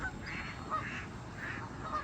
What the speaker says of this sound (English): look at all these geese here